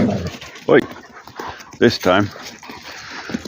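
Dogs out on a forest walk give short whimpers, yips and panting close by, mixed with a person talking over them.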